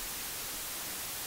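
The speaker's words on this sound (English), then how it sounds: "And indeed, that's one of the characteristics of white noise," Steady white noise from a synthesizer, a flat, bright hiss with even energy across the range, held constant for a short moment.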